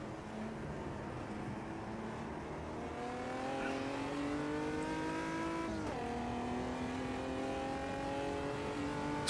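A Chevrolet Amiga stock car hammers around the high-speed Cascavel circuit in Brazil in Automobilista 2, its engine droning steadily, rising in pitch, dipping briefly at a gear change, then climbing again, with no talk over it.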